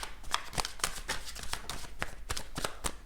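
A 78-card tarot deck is shuffled by hand, a quick run of close, soft papery riffles and flicks in a fairly even rhythm, with no talk.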